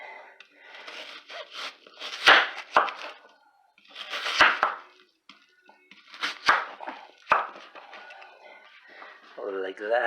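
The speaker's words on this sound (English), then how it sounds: "I'm gonna chop this up." A knife chops food on a cutting board, likely onions, while preparing a tri tip roast, in short bursts of quick chops separated by pauses, close and fairly loud, with someone talking between bursts.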